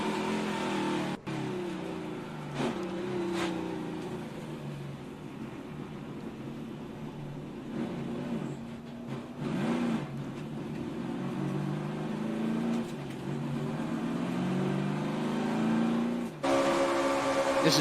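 Ford NASCAR stock car engine heard from an onboard camera at Speedweeks, a loud continuous droning roar with rising and falling pitch through gear changes, wind buffeting over it, and no voices.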